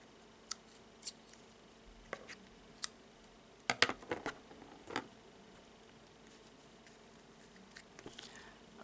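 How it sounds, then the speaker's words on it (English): Scissors snip through yarn while making a tassel, a series of close, crisp metallic cuts spaced irregularly, with a quick cluster of snips in the middle, in an otherwise quiet room with no talking. "now I will cut the yarn"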